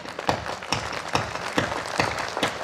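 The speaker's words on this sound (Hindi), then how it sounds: "आपकी तालियां कमजोर हैं।" At a patriotic evening event honouring martyrs, an audience claps in steady rhythmic unison, with evenly spaced beats about twice a second over a softer background of scattered hand claps.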